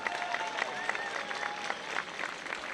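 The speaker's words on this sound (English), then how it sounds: "I'd like to give them a big round of applause as well" An outdoor crowd at the Altadena Christmas Tree Lane lighting ceremony claps steadily. Dense, even applause fills the space, with faint voices and a few whoops mixed in.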